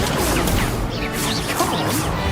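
The Incendio fire spell is cast in Hogwarts Legacy, producing a loud fiery whoosh mixed with crashing impacts and battle noise, dense and continuous throughout.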